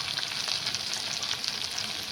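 Red chilli powder and spices hit hot oil in a pan of brinjal curry, giving a continuous, close, bright sizzle and crackle with light stirring scrapes and no voices.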